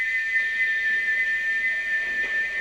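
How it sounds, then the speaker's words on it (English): A steam locomotive whistle blows nonstop at a station, a steady, piercing high tone held unbroken over faint background noise. "he wouldn't stop whistling until two fitters climbed up and knocked his whistle valve in place"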